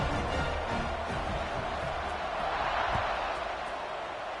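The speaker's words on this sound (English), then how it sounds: "They're set to kick it off, and this crowd now ready to get behind them." A football stadium crowd roars steadily before a kickoff, a dense, continuous wash of cheering and noise filling the whole clip at a distance.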